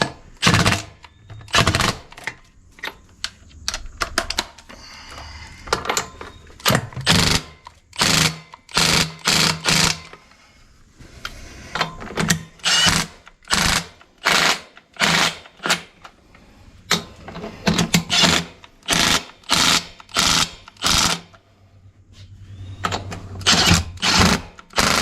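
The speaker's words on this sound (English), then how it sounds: "it's about time to get the impact driver on this thing and start tightening them up" An impact driver hammers tractor wheel lug nuts tight on a front tire, in repeated loud rattling bursts of a second or two separated by short pauses, close and clear.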